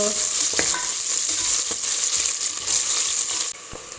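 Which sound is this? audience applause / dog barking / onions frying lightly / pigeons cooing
onions frying lightly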